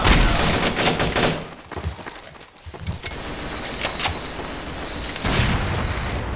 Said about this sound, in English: Alright, who's shooting me?